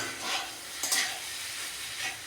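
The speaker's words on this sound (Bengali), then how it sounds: "এই যে আমার ম্যাগি ভাজাগুলো হয়ে যাচ্ছে, এগুলো ভাজা হয়ে গেছে" Boiled Maggi noodles frying in a pan, a quiet steady sizzle with soft stirring and scraping strokes, one brief louder clatter, no voices.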